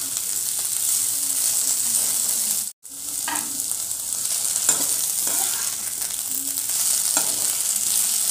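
Neem leaves and mixed vegetables fry in a pan, Bengali style, with a steady close sizzle and spatter lasting throughout, broken once by a brief silent gap, with faint stirring scrapes and no talk.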